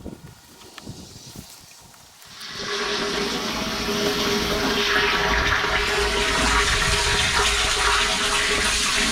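A new 12V pump pushes water into the tank of a 100-litre sprayer trailer, giving a steady loud rushing and hissing flow that builds after a quieter start and continues unbroken.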